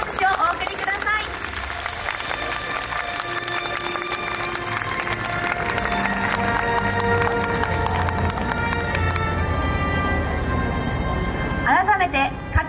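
Sustained crowd applause at an award ceremony during the Koiya festival finale in Japan, dense continuous clapping throughout with steady tones and music carrying underneath and voices briefly audible near the end.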